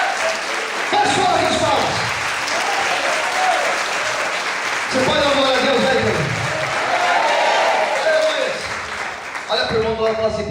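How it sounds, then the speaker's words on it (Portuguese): A church congregation claps hands loudly in worship during an evening service, sustained dense clapping with a preacher's voice and crowd voices rising over it. "Faz forte as palmas."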